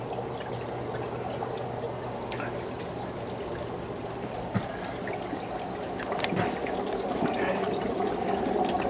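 Air pumped into brine shrimp hatching bottles bubbles and gurgles continuously, a steady watery churning close by that grows slightly busier toward the end, with a few faint clicks over it.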